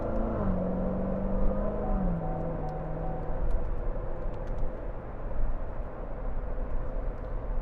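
Supercharged 2018 Chevrolet Corvette Z06 3LZ Carbon 65 Edition on an open road accelerating, its engine note rising in pitch then settling into a steady cruising drone with road and wind rumble, heard from inside the car.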